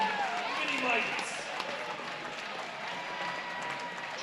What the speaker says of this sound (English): let's give a round of applause to these future Vikings and Cardinals